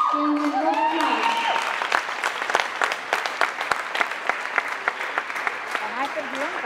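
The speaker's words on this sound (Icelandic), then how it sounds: "Gefum við góð klapp." Audience at an Icelandic team gymnastics championship applauding as a trampoline team is called up; crowd clapping builds over a tonal voice on the public address, then thins into scattered, distinct claps toward the end.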